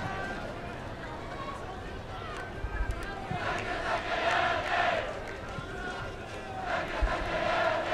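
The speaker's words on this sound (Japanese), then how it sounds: "ゴールが決まった瞬間わっと歓声が上がりました" A crowd in the cheering section at a high school football (soccer) championship match erupts after a goal, a broad sustained roar swelling in waves at moderate distance, with a commentator's voice over it.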